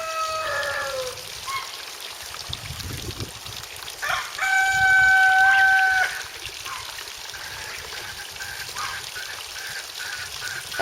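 Hens clucking in short bursts with a loud rooster crow rising midway, over a steady trickle of running water in the background.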